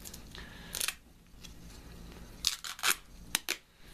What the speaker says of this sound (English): Next thing you want to do is you want to tear off a piece of tape.